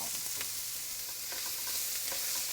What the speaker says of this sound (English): I've got a little bit of olive oil in a pan, and I'm going to add some onion.